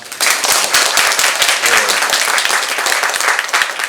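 Loud, dense applause from an audience at a pansori performance of Chunhyangga, sustained clapping at close range throughout.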